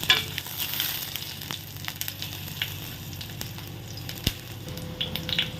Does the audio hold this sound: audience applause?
no